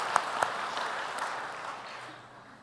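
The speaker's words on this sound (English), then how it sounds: "and I would give a round of applause." Applause from guests at a Sydney ambassador dinner, opening with a couple of sharp nearby claps and then swelling into a moderate roomful of clapping that gradually fades toward the end, with no voices heard.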